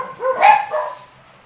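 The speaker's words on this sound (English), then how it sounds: "we've got 26 dogs here on the farm in the Philippines, and they bark like hell sometimes" One of many farm dogs in the Philippines lets out a single loud, close bark with a brief whimpering tail.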